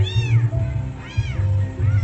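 A house cat meows loudly and close by, three insistent meows in quick succession over a low background hum, with no talking.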